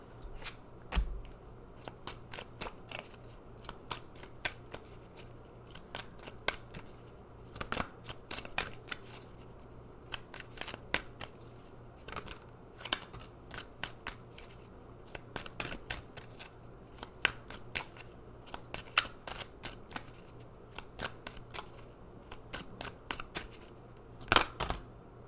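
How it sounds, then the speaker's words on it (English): Oracle cards are shuffled and pulled by hand in repeated quick riffling flicks and soft snaps, close and quiet, continuing steadily with no talk. "So let's pull some more cards."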